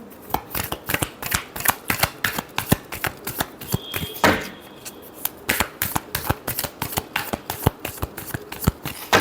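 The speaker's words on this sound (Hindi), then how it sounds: "Last shuffle." Tarot cards riffle-shuffled by hand, a quick run of crisp, close flutters and taps that keep going evenly with no voice.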